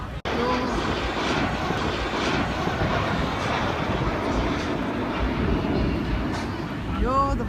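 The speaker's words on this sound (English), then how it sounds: "the planes are coming out" Aircraft engines drone loudly and continuously at an air show in Miami, a broad rumbling roar with a crowd and people talking underneath.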